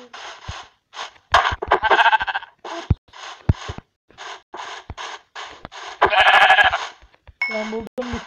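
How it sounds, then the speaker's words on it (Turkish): Sheep in a survival video game bleat in short repeated bursts, near and fairly loud, mixed with scratchy clicks and other game sounds. "Artık Miraç koyun ara hadi çabuk abim."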